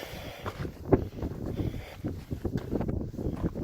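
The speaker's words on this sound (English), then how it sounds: "It's starting to get pretty windy" Wind gusts at the base of Grays Peak on a Colorado 14er hike, buffeting the microphone in low, uneven rumbling bursts that rise and fall close up.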